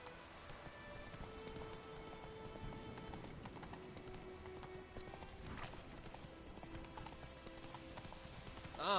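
Horse hooves clip-clop steadily at a walking pace, moderately close, with a faint rain-like patter underneath and a brief whinny near the middle.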